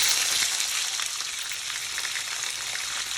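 Tomatoes hitting onions already frying in a pan set off a loud, steady sizzle with dense crackling, close and continuous throughout, with no talking.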